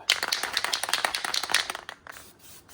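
Aerosol spray paint hisses in short, rapid bursts as a light dusting is applied to car brakes, a dense run of hissing puffs that tapers off after about two seconds.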